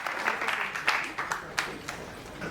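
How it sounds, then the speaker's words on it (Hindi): Applause from an audience at a leadership development training session aboard a cruise, a steady dense clatter of many hands with a few sharper claps standing out, with some voices mixed in. "जोरदार तालियां, अभी तक की सबसे जोरदार तालियां"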